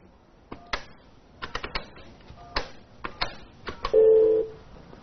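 Telephone keypad tones beep as a number is dialed at a hospital clinic, a run of short irregular clicks and beeps followed by a longer held tone.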